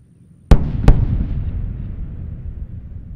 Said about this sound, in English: Those sonic booms announcing